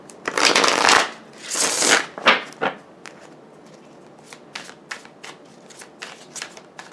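Tarot cards shuffled by hand, two long riffling bursts and a shorter one, followed by soft scattered taps and flicks as the deck is handled, close and with no talk.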